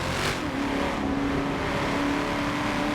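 A race car engine in a sim racing game drones steadily and loudly throughout, holding a constant high-revving tone with no talk over it.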